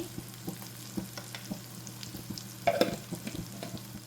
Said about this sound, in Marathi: एकदा सर्व चांगलं मिक्स करून घेऊया सगळं घाटून घेते